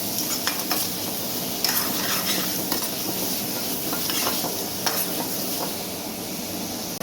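Prawns coated in masala sizzle steadily in a hot pan while being sautéed, with a constant crackling hiss broken by occasional clinks and scrapes of a spoon stirring against the metal.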